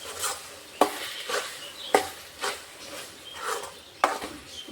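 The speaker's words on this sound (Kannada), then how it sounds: "ರುಬ್ಬಿಟ್ಟಿರುವಂಥ ಮಸಾಲನ ಹಾಕ್ಕೊಂಡು ಒಂದು ಸ್ವಲ್ಪ ಇಲ್ಲಿ ಫ್ರೈ ಮಾಡೋಣ, ಅಂದರೆ ಮಿಕ್ಸ್ ಮಾಡೋಣ ಚೆನ್ನಾಗಿ." Ground masala stirred and fried in a pan for a ridge gourd sukka, with a utensil scraping the pan in regular strokes roughly once a second over a faint sizzle, close and with no talking.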